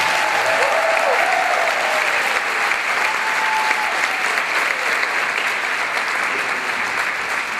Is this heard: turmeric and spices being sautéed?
no